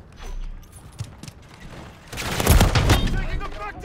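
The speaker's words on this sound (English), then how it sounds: "Taking effective fire!" Heavy bursts of gunfire from a multiplayer sniping video game swell in the second half, dense and booming over a low rumble, after a quieter stretch with a few scattered shots.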